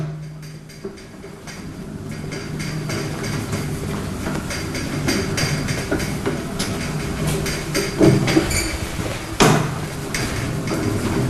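A metal drum rotator and stacker unit is spun round by hand, giving close mechanical rattling and clanking with irregular knocks and a couple of louder metallic bangs over a continuous rumbling roll.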